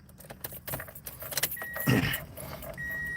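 Keys jangle as a car is started from inside, with a brief cranking and engine catching near the middle, followed by a steady low idle at close range.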